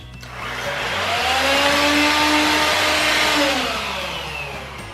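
An AEG CX7 stick vacuum cleaner runs steadily up close, its loud motor whine swelling to a sustained roar and easing slightly toward the end, heard alone without speech.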